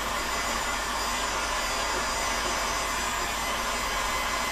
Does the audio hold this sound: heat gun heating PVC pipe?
yes